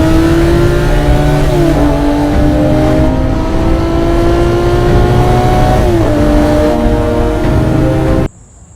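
A 2007 Lamborghini Murcielago LP640 with its 6.5 liter V12 idles loudly and blips its throttle several times, each rev rising and falling, before the sound cuts off abruptly.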